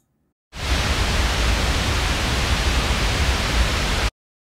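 A synthesized waterfall made in Wwise, low-pass filtered and layered with a deep rumble, gives a broad, heavy roar of falling water that starts suddenly, holds steady for a few seconds and stops cleanly.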